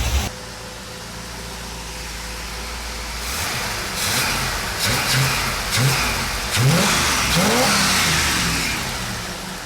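A 30-year-old Trans Am engine with worn spark plugs warms up, running steadily, then rising in a few bursts of revving over a rough idle, fairly close, with no voices.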